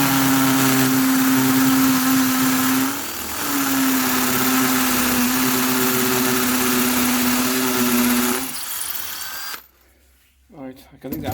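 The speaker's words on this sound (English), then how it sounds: "So I'll get drilling." Power drill boring holes while fitting a fuel filter on a Chinese diesel heater, a loud steady whine that dips briefly, runs on for several seconds, then stops as quieter handling noises follow.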